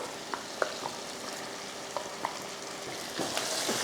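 Ground masala goes into a pan of country chicken curry and is stirred, giving a soft, steady sizzle with scattered light clinks and scrapes of a spoon, close and fairly quiet, with no talking.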